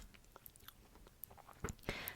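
Gum chewing close to the mic in a Korean ASMR talking session: soft wet smacks and small crackly pops, irregular and intimate, growing louder near the end, with no speech.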